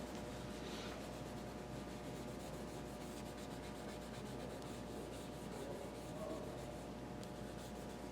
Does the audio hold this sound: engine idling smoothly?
no